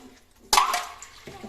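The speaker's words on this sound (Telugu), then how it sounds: "ఇక్కడ వాటర్తో కడుగు" A spoon being washed under running tap water, a short splash and gush starting abruptly after a quiet moment, then a softer trickle.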